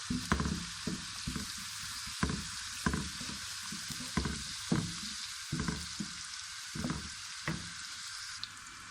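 Ginger and garlic fry in hot oil with cumin seeds and bay leaf for a bean curry, giving a steady close sizzle with repeated stirring scrapes throughout.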